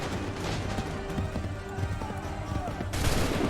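Gunfire breaks out in a video game, with dense overlapping shots under a spoken voice and steady game ambience.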